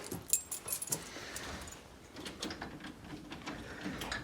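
A bunch of keys jangles in short bright metallic clinks over steady background noise while someone goes to work on a dirty barn-kept Jeep CJ7, with no talking.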